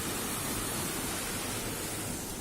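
Water rushing at a dam built in 1951, a dense, continuous roar that stays loud and even throughout with no voices.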